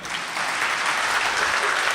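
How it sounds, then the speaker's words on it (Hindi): Audience at a mushaira poetry gathering applauding, a steady even wash of many hands clapping at moderate loudness throughout, no voices standing out. "और एक बार तालियां हो जाए।"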